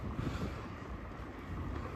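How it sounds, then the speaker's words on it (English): Gusty wind buffets the microphone in Leith, Edinburgh, a steady low rumbling roar with no voices. "I think it's going to be too windy."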